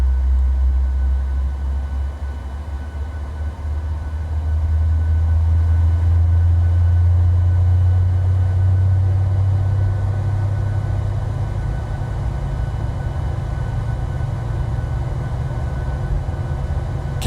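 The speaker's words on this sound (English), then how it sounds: "And you'll even hear the fuel tank, the engine going up back here." Jet engine spooling up on a PMDG 737-800 in Microsoft Flight Simulator, a steady low roar that builds and holds loud and continuous, with a faint higher whine above it.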